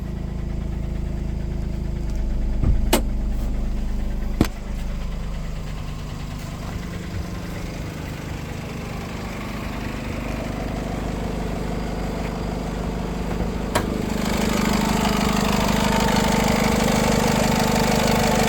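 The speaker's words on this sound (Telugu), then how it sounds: "బానెట్ లిఫ్ట్ చేసి ఒకసారి ఇంజన్ స్టార్ట్ చేస్తున్నాను" A 2015 Honda City V diesel idles steadily at close range with the bonnet lifted, a low rumbling chug with a couple of sharp clicks, rising slightly in loudness near the end.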